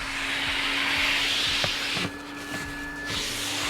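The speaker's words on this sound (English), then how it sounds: "it actually has a vacuum cleaner" A 2020 Chrysler Pacifica minivan's built-in vacuum cleaner runs with a steady whine and hiss, briefly dipping in pitch midway, with a few knocks and bumps against the nozzle.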